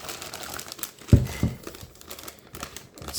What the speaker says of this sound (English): So let's remove here the power supply itself.